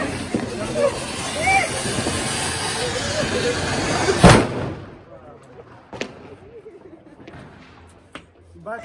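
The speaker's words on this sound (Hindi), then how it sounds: "बम चला के खुश हुई रितिका" A Diwali firecracker bomb goes off with one sharp, loud blast, followed by fainter pops and crackles as the noise dies down. Voices are heard over the crowd din before the bang.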